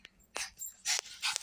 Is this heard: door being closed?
no